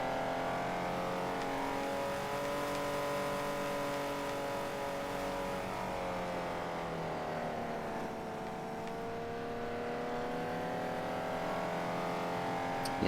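An underpowered race car in Wreckfest drones steadily at sustained revs, its engine pitch dipping slightly and climbing again, close and continuous with no talk over it.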